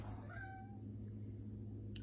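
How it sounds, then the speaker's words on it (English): A house cat gives a single short, faint meow early on, set against a steady low hum of background noise in a home kitchen. "There's my kitty cat right over there."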